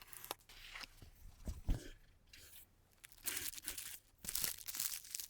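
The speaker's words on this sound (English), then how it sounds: "No more chit-chat, let's quickly unbox this keyboard." Packaging for a Logitech MX Mechanical Mini keyboard is unboxed up close: quiet crinkling of plastic and cardboard, scattered soft taps and thumps, and bursts of rustling and tearing that grow busier toward the end, with no talk.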